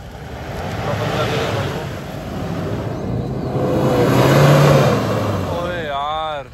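A Toyota Hilux engine labours loudly and up close through an off-road hill climb attempt, droning steadily, then swelling to a strained rev peak before easing off, with people talking over it.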